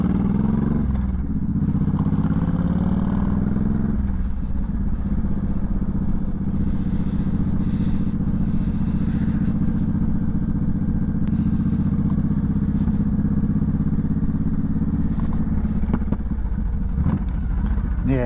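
A motorcycle engine idling and revving with a lean fuel setting that calls for fuel-controller adjustment, steady rumbling close by with occasional pops and clatter, a voice faintly audible underneath.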